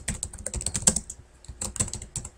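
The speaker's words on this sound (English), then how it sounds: "what I'm typing is right off this sheet to the side here" Rapid, steady typing on a computer keyboard, dense clicking keystrokes with a few louder key hits, close and continuous with no talking.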